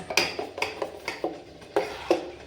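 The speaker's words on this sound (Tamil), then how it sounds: "சட்னியை நல்லா கலக்கி விட்டுக்குங்க" Chutney being stirred after a curry-leaf tempering is poured in, a spoon clinking and scraping against the vessel in a series of distinct, fairly close taps with short pauses between them.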